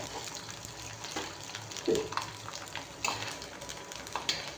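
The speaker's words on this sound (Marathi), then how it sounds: "आपण अजून एक दोन चकल्या तळून घेऊया" Sabudana and potato chakli deep-fry in oil with a steady, moderate bubbling sizzle. A few soft clinks and stirring taps sound close by.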